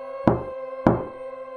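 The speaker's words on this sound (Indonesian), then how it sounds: "Fikri sedang tertidur ketika tiba-tiba terdengar suara ketukan." Two sharp knocks on a wooden door about half a second apart, each ringing briefly with a woody resonance against a faint steady background hum.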